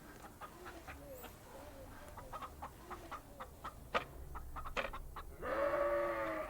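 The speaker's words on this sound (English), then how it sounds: "We feed the chickens every single day." Hens cluck in short, scattered bursts, one close bird rising to a louder drawn-out call near the end over a low farmyard hum.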